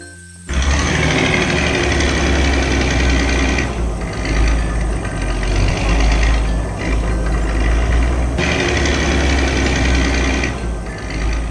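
A yellow loader's engine runs in an animated scene of road repair, a loud, steady mechanical drone with a chattering knock that holds almost unbroken for the whole stretch after a brief quiet start.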